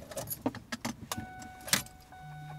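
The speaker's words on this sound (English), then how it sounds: "first you want to put the key in the ignition." Car keys jangle and click in short bursts close by as a key goes into a car's ignition, followed by a steady soft electronic chime at the end.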